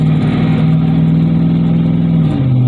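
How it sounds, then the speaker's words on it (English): A 2009 Chevrolet 2500HD with a 6.0 gas engine pulls a 5,000 lb trailer at light throttle, its engine humming loud and steady with a low, even drone that holds pitch and dips slightly near the end. "so I'm about a quarter of the way down on the gas pedal of that"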